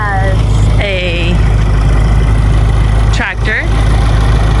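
A borrowed tractor's engine runs steadily at a farm building a pig pen, a loud continuous low drone throughout, with a person talking over it.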